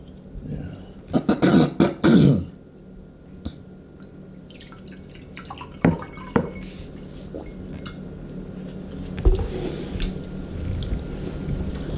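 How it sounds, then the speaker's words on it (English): pH-balanced bottled water pours into a glass, a clattering, splashing burst early on followed by a quieter trickle and occasional clinks. "That pour sounded refreshing"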